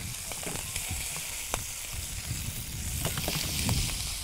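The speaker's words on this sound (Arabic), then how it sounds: "هقلب الجمبري" Shrimp sizzling in hot oil in a pan as they are flipped, a steady close hiss broken by a few sharp clicks and taps from the turning, with no voices.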